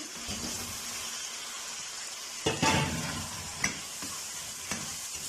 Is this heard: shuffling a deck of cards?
no